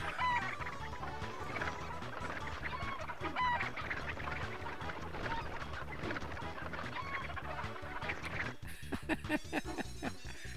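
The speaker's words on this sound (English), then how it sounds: "Oh my god, it's chickens!" Hens cluck inside a hen house in the Breath of Fire III video game, short repeated fowl calls mixed into steady game music, shifting to a sparser texture in the last couple of seconds.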